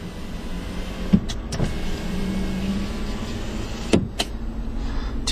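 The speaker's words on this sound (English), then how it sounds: "a power tilting and sliding sunroof, as well as a power sliding rear window" On a 2011 Ford F-150 King Ranch, an electric motor hums steadily as the power sliding sunroof or rear window moves, framed by sharp clicks and thumps of buttons and the panel stopping, heard close inside the cab.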